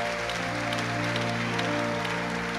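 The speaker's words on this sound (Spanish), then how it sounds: "Pues eso lleva un aplauso." A church congregation claps steadily together, a dense continuous applause filling the room for a few seconds.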